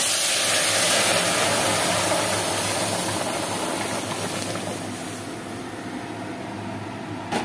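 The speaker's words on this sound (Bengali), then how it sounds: "ফোড়নটা হয়ে গিয়েছে, এবার ডালটা আমি ঢেলে দিচ্ছি।" Lentil dal hits a hot panch phoron spice tempering, releasing a loud, steady steamy hiss close by that slowly fades over several seconds.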